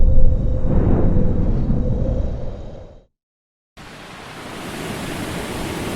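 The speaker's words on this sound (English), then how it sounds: "The big waves broke into the boat." Storm waves crash and roar against a boat, a loud continuous broadband wash that cuts out briefly to silence and then returns at a steady, slightly softer level.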